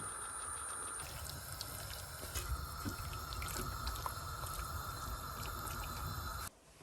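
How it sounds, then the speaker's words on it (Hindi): Water runs steadily into a cooking pot, a continuous close splashing stream that stops abruptly near the end. "थोड़ा पानी डालते हैं"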